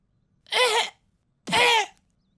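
Two sharp, close coughs separated by a brief pause, loud and isolated with silence around them.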